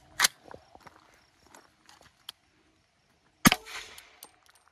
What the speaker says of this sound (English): We're going to do a subsonic 300 blackout.